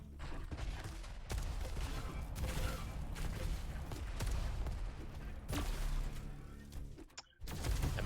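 Rapid bursts of video game gunfire in a competitive arena duel match, repeated shots and impacts overlapping fairly quietly, with brief gaps near the end.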